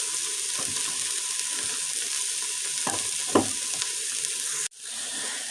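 Hamburger meat sears in an Instant Pot on its sear setting, making a steady, close sizzle with a few soft knocks and scrapes before it cuts off abruptly.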